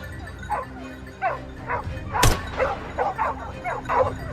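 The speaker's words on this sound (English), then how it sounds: "was broken by the frantic barking of the hunting dogs from the east side of the forest" Hunting dogs bark frantically in a forest while cornering a wild boar, a rapid series of close yips and barks with one sharp crack in the middle.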